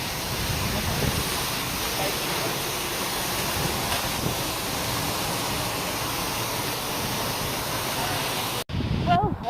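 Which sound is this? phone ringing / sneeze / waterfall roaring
waterfall roaring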